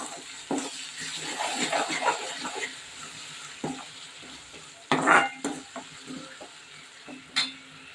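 Tomato puree is stirred into a sizzling masala gravy for a quick chicken fry, giving irregular stirring scrapes and spoon knocks over a steady sizzle, with sharper clatters near the middle and end.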